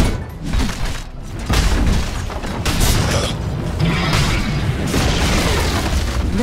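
A Dota 2 tower collapses with heavy booming crashes and grinding, creaking debris. The loud rumble swells and lingers for several seconds amid the battle noise.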